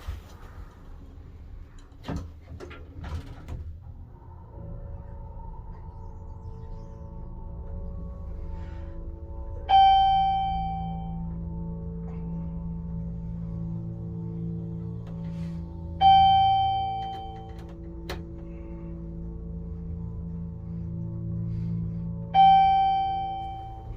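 A Classy Armor hydraulic elevator in a Jericho, New York building, slightly low on oil, closes its door with a thud and then runs with a steady low hum. A bright chime rings three times at even intervals over the running drone.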